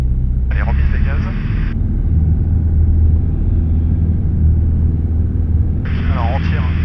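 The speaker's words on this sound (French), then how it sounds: "Allez, remise des gaz." The engine of a light training airplane drones steadily at full power during a go-around, a loud, continuous close rumble inside the cockpit, with two short bursts of radio voice over it.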